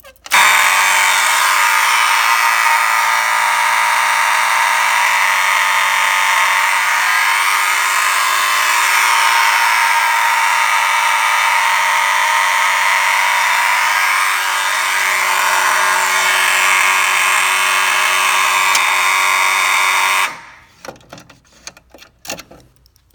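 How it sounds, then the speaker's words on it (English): School fire alarm system going off after a pull station is pulled, a loud continuous electronic buzzing horn with a steady tone, running unbroken for about twenty seconds before cutting off abruptly, leaving quieter clatter. "So, I really love my fire alarms I got from the school."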